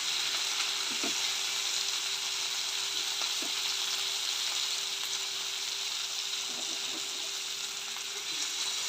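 Tomatoes fry with onions in a pan for village-style chicken curry, a continuous close crackling sizzle with a faint steady hum and occasional soft stirring knocks.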